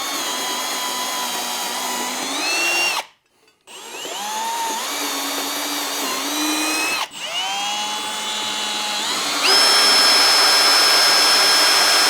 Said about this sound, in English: when you're drilling holes and screwing new things in